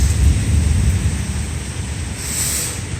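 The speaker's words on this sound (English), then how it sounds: "Hear those rumbles of thunder." Low rumbling of thunder in a severe summer thunderstorm in New York City, a deep, rolling boom that swells early and fades under steady wind noise and faint rain hiss.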